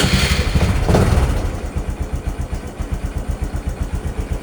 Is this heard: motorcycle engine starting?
yes